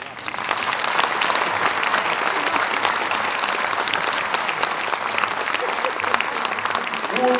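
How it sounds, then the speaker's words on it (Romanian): An audience applauds dancers at a Romanian folk performance, a dense, sustained wave of clapping that starts quickly and continues evenly to the end. "Să știți că dansatorii sunt în spate, dar așteaptă cu mare drag aplauze."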